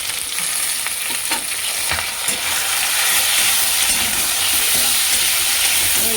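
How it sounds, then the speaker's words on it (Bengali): Chopped ripe tomatoes go into a hot frying pan with a fish curry of katla belly and drumsticks, giving a close, steady sizzle and frying crackle with light stirring scrapes and no talking. "দিয়ে দেবো কুচনো পাকা টমেটো"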